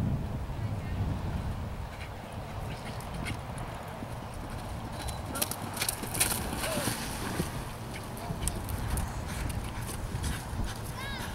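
Horse hooves clip-clop at a barrel racing event amid steady outdoor arena noise and wind, a run of distinct hoofbeats rising out of the crowd ambience near the middle.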